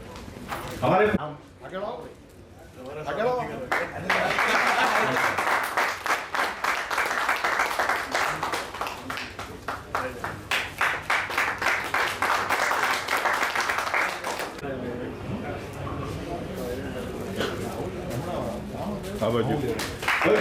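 Crowd at a Baroda Road Transport Association annual general meeting breaking into loud, sustained clapping after a brief spoken moment, the applause running steadily for about ten seconds before easing into murmured talk.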